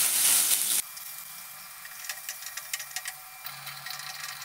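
Black cumin and chopped onion hit hot oil with a loud, hissing burst of sizzle lasting under a second, which then drops to a quiet fry broken by light stirring clicks.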